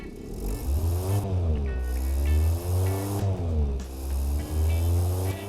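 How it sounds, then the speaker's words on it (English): A simulated car engine in the game Automation idles and revs in steady waves, a low droning hum rising and falling in pitch, fairly close and continuous, with no talking. "Let's run the engine."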